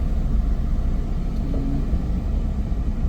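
Dense road traffic on a busy city street in Pune, with car engines rumbling in a steady low drone close by, with no talking over it.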